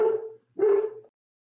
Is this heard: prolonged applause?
no